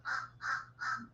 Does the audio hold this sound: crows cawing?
yes